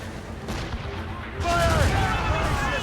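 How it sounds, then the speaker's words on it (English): Ship cannons firing in Assassin's Creed Rogue, heavy booming volleys rolling out in a sustained barrage at sea, loud and close, with shouted voices over the fire. "Guns out! Let's get moving! Fire!"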